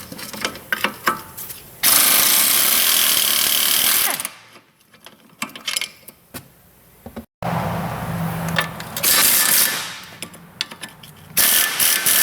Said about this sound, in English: Gonna take the two bolts here out of the strut.